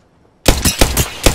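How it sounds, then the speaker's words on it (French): Rapid automatic gunfire in Apex Legends, a loud burst of about five close shots in quick rhythm, starting abruptly after near silence. "Je tire."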